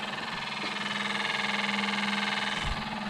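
A cleaned-up wiper motor on a Morris Minor running with the ignition on: a steady, close electric hum with a faint rhythmic pulsing, no voices.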